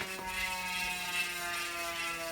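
A Chris King rear hub on a Santa Cruz 5010 bicycle freewheels with a fast, continuous high-pitched buzzing ratchet, close and fairly quiet, alone with no talking.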